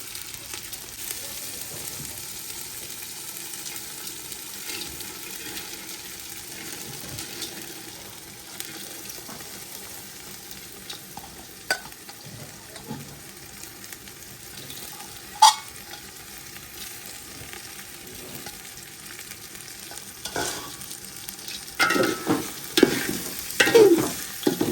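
Rice, lentils, cumin powder and spices roast in a pan, with a soft continuous sizzle under scattered scraping stirs that grow busier and louder toward the end.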